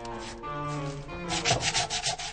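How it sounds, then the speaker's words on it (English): Sandpaper rubs back and forth across wood in close, scratchy strokes, a quieter first pass followed by several quicker rhythmic rubs. "Sandpaper."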